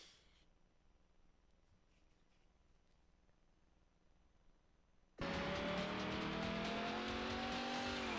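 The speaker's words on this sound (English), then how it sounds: "it's very hard to explain for you who do not follow drifting what James Dean is doing right now" Race cars drift in the PS2 game Need For Speed: Hot Pursuit 2, starting quiet and then abruptly bursting into loud, sustained engine revving and tire squeal for the last few seconds.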